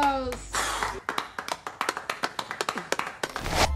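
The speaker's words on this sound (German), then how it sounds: "Bravo! Applaus!" A quick run of sharp, regular hand claps follows a brief burst of music, with roughly a dozen evenly spaced claps, close and fairly loud, building into a denser clatter at the end.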